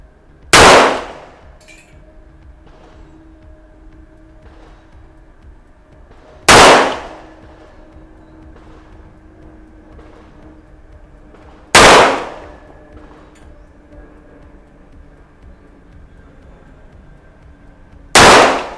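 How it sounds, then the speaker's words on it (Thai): Smith & Wesson 4506 .45 pistol fired on a shooting range: four loud, sharp reports spaced roughly five to six seconds apart, each with a brief ringing decay, and quiet background between them. "ตัวปืนสมิธเอเมสันนะครับจุดสี่ห้ากระบอกนี้ ผู้ยิงพร้อมนะครับ พร้อมแล้วเริ่มยิง"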